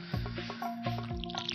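Watering can sprinkling crops in the Stardew Valley video game: a few short, soft watery splash effects in quick pulses, close and clear, with a louder burst at the very end.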